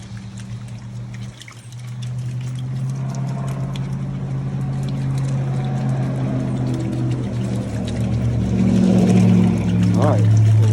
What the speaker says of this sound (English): We're just soaking them in some water, clean them off, get all that mud off of them.